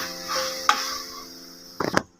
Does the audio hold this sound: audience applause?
no